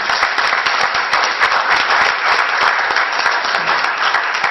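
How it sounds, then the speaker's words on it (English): Loud, steady round of applause from attendees at a school board meeting honoring a retiring staff member, dense clapping filling the room without pause. "let's give her a nice round of applause"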